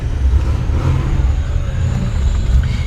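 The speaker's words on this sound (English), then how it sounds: "you turn the key forward and then just step on the gas to start it" A 1956 Buick Special's engine runs with a steady, loud low rumble close by, holding an even idle without any clear starter crank or rev.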